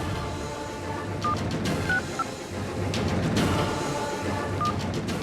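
Telephone keypad tones beep in short, separate bursts at moderate volume over a busy indoor background, as a number is dialed.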